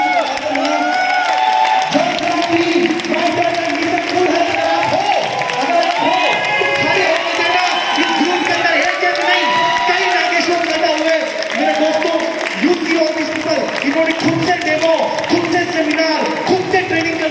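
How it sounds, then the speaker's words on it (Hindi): An audience at a fifth anniversary event claps and cheers, sustained loud applause mixed with whoops and excited voices throughout, with talking and shouting in the crowd. "अगर आपको नाम पसंद आया तो ताली से एकदम जबरदस्त"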